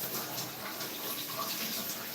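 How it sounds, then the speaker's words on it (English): Running water pours steadily over someone standing beneath it, a soft continuous splashing and hiss at close range with no talking. "I've been standing under here, underneath the water, I don't know, for a good 15 minutes now"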